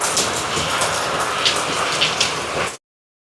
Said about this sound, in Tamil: நல்ல மழை நண்பர்களே